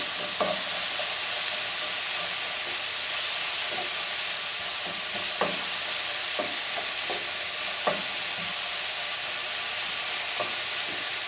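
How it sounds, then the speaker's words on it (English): Hamburger meat fries with softened celery and onion in a pan, giving a steady close sizzle and hiss, broken by repeated light scrapes and clicks as it is stirred. "put my hamburger in. Just keep mixing it around because you don't want it to burn."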